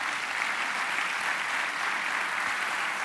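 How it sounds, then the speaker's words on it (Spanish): A church congregation applauds during a Spanish-language sermon, a steady, dense wash of clapping that holds evenly for about three seconds with no voices on top. "Dale a Dios un aplauso por su palabra."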